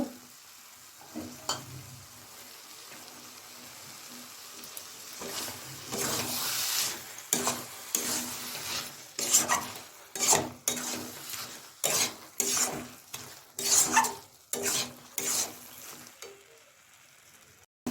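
Dal mixture is stir-fried in a pan, with a hissing sizzle under a run of quick, repeated spatula scrapes and metallic clinks against the pan. The strokes grow busier and more rhythmic toward the end, close-up and without speech.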